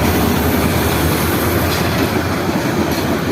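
The Kalni Express passenger train runs along the rails at speed, a loud continuous rumble with rhythmic clickety-clack of wheels on track joints and occasional faint squeals, heard from on board without talk.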